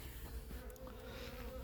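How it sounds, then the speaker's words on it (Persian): Honeybees flying out of a hive at the start of the beekeeping season in early spring, a steady soft buzzing drone that stays faint and even throughout, with no talking. "زنبورا دارن پرواز میکنن"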